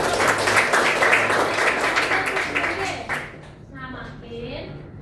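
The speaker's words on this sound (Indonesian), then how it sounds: "Tepuk tangan dulu." Classroom applause from a group of students, a dense wash of clapping that holds steady for about three seconds and then fades out, with voices and children's chatter heard underneath.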